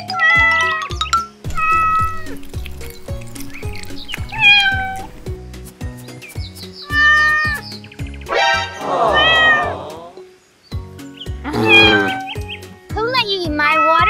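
A cartoon cat in a miniature watermelon and KitKat cake cooking skit meows over and over in loud, drawn-out, wavering cries, some sounding like caterwauls. The meows sit over a plinking musical backing.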